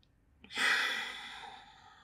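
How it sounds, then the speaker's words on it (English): A single deep breath during a Pilates session: a short intake, then a long, close, soft exhale that fades over a couple of seconds, with no talking. "Two more breath."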